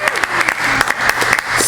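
Applause from people at a school board meeting, a dense, loud burst of close hand clapping that carries steadily through the whole moment.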